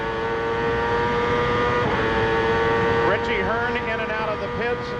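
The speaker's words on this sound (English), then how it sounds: "Now we're approaching the 80th lap of the race" CART race cars lap the Portland circuit during a 1999 race, high-pitched engines whining loudly and steadily, with cars passing and pitch sweeps late on, under continuous commentary.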